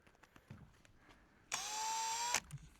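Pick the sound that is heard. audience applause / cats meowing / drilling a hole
drilling a hole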